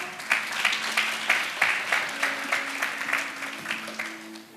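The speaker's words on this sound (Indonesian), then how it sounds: "boleh kasih tepuk tangan untuk Sheryl" An audience at a youth Christmas church service claps in a rhythmic, pulsing beat. The applause is moderately loud and close, with faint voices underneath.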